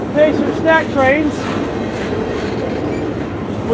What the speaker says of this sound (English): These are brand new TTX cars, fresh off the assembly line.